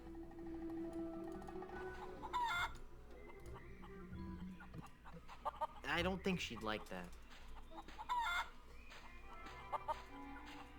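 Chickens clucking in the video game The Curse of Monkey Island, with several short bursts of cackling close by, mixed with game music and a brief line of speech.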